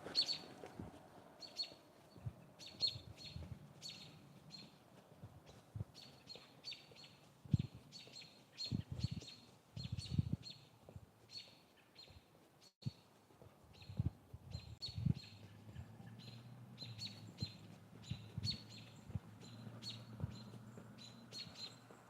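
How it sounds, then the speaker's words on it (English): Birds chirp and tweet repeatedly in short bursts through a spring evening walk, moderately distant, with faint footsteps and outdoor rustle underneath. "Birds out, you know it's spring."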